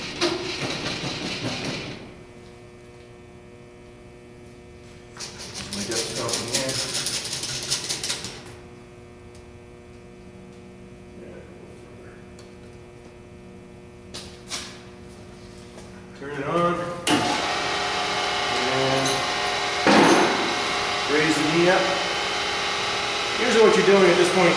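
A vertical milling machine cuts a clamped workpiece, its steady motor hum and harmonic whine rising in loud bursts of broadband cutting noise, with quieter stretches between passes and a long, intense cut toward the end.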